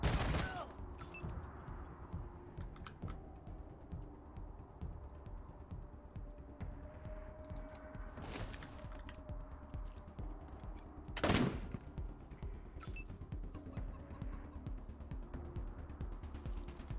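Gunfire in the video game Wasteland 3, a shotgun fired in a turn-based fight, with scattered sharp shots and one louder blast standing out over a steady background of game ambience.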